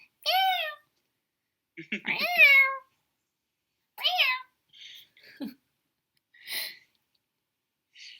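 A cat meows several times with short, clear calls separated by pauses, close and fairly quiet, with a few soft rustles between.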